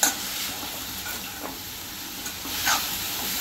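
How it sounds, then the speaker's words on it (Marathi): Fenugreek leaves stir-fried in a pan, giving a continuous soft sizzle with light scraping strokes of a spatula and a few brief hissing bursts, close and moderately quiet. "मेथी चांगली आपण आता परतून घेऊया।"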